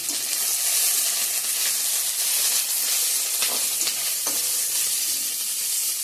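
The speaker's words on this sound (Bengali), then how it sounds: "এখানে আমি ফোড়ন দিয়ে দিছি তেজপাতা, শুকনো লঙ্কা, পেঁয়াজ, জিরে" Bay leaf, dried chilli, onion and cumin sizzle steadily in hot oil, a loud close hiss and crackle with occasional stirring scrapes and no talking.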